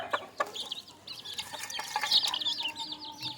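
Country hens and tiny chicks feeding together, with repeated clucks and a steady stream of high chick peeps nearby, plus an occasional flutter of wings.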